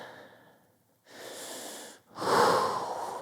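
Slow, audible breathing during a held ankle mobility stretch, with a long airy inhale and then a stronger, louder exhale close to the microphone.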